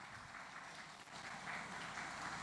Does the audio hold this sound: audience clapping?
yes